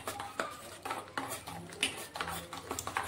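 A spoon stirs instant millet pancake batter in a bowl, clinking and scraping against the sides in quick uneven strokes, close and clear with no talking.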